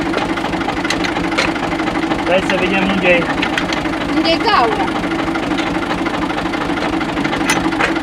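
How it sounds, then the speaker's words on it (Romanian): A UTB 445 tractor engine runs steadily with a constant low, rattling rumble at a farm while hay bales are hauled, and people talk over it. "Tractorul ăsta mai bine ne ajută."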